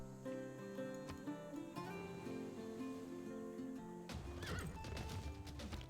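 A horse whinnies loudly over a steady musical background in a strategy video game, then a burst of clattering hoofbeats and crashing effects follows.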